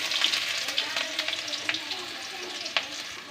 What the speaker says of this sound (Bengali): পেঁয়াজ কুচিগুলো দিয়ে দিয়েছি, একটু ব্রাউন করে ভেজে নেব